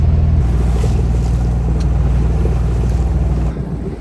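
A sailboat motors along the Gambia River in West Africa with too little wind to sail, its engine putting out a steady, loud, close, rhythmic low chug under wind buffeting, easing off slightly at the very end.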